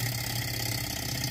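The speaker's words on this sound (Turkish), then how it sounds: "Motor soğuyuncaya kadar çalışmaya devam ediyor." A small Stirling engine driving a generator keeps running steadily, giving a continuous low mechanical hum with a faint whirr, with no voices present.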